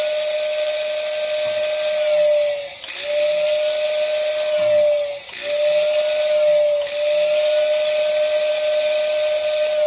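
A 1937 Lionel 616 Yankee Flyer toy train sounds a steady, shrill steam whistle in three long blasts, each dipping briefly before resuming, with a constant hiss underneath.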